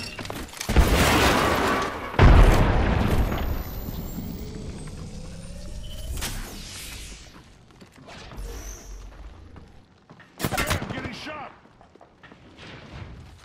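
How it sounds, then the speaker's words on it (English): In the video game Apex Legends, a grenade goes off with a loud, booming blast followed by crackling debris, then a second heavy burst, all mixed with game noise and talking players. "Heads up! Grenade!"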